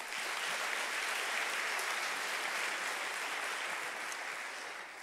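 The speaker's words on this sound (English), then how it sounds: "Ladies and gentlemen, can we get another round of applause?" Audience applause at an employee honors recognition ceremony, a thick, even roar of many hands clapping, steady and unbroken for the whole stretch before easing slightly at the close.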